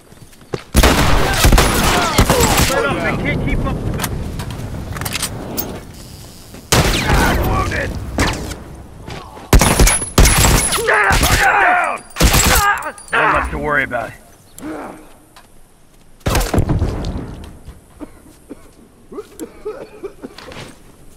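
Shotgun blasts and bursts of gunfire ring out in The Last of Us, several loud sharp shots in clusters with gaps between them, mixed with other combat noise and talk.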